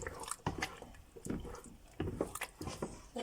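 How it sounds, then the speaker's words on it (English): Meat stock spooned into a pot of egusi soup, giving soft irregular splashes, drips and liquid squelches close by, several pours in quick succession at low volume. "and I'll add the meat stock, the water from the meat, not all of them."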